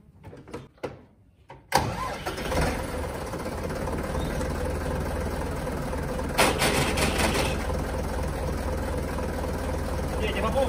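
A Same tractor with a troublesome clutch is cranked and its diesel engine catches, then settles into a loud, steady rumbling idle close by, with a brief surge partway through.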